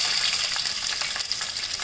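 Capsicum frying in hot oil in a pan for matka biryani, a steady close sizzle and crackle with faint stirring, no voices.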